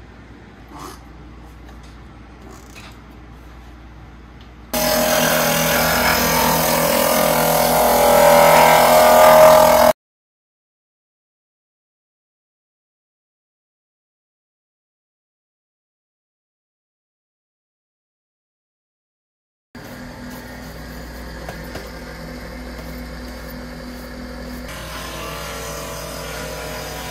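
Edges of a leather crossbody bag are sanded in a loud, steady, broadband burst of scraping that lasts about five seconds, followed by a long silence and then quieter handling noise.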